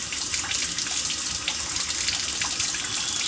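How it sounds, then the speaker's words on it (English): Water pours steadily from a tap into a filling bathtub with a clogged drain, a loud, continuous rushing splash with no pauses. "if you can see how the water's filling up"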